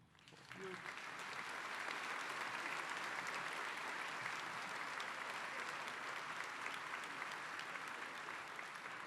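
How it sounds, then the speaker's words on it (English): Audience at a university graduation ceremony applauds the standing educators, a broad sustained clapping that swells after a brief quiet start and holds steady for several seconds. "You deserve a big round of applause."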